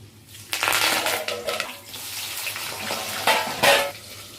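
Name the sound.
food browning while frying in a pan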